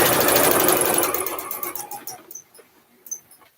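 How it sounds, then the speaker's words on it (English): Sewing machine stitching close along the edge of a fabric strap, a loud rapid mechanical chatter that runs steadily, then slows and trails off into a few faint clicks and taps near the end. "I'm going to be stitching on both sides of this strap really close to the edge, about 1/8 of an inch away"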